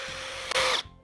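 A power drill whines steadily and close, driving a screw into wood at an angle for a pocket hole, rising briefly under load before stopping.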